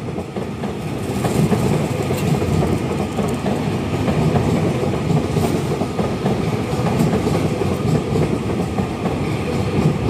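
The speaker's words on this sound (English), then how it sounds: "390154. TransPennine Express going to Preston." Class 390 unit 390154, a TransPennine Express service bound for Preston, rolls past with a steady, loud rumble and faint wheel clatter sustained for the whole stretch, no voices over it.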